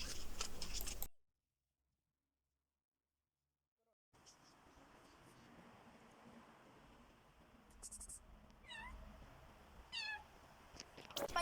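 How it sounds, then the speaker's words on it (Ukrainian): A cat and her kittens meow in a village yard, with several short, rising high-pitched mews near the end over faint outdoor hiss, after a loud burst and a stretch of silence. "Сусідська кішка привела кошенят, і нам запропонували взяти пухнасте кошенятко"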